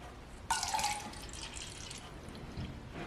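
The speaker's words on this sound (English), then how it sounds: "I'm going to be pouring from a pitcher." Water poured from a pitcher into cups starts with a sudden close splash, then settles into a soft, steady trickle that fades slightly, with a small extra splash near the end and no talk.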